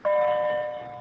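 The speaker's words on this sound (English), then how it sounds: "let the bell finish here." A single bell tone rings out during a classroom lecture, a clear sustained chime that slowly decays over about a second, alone without talk.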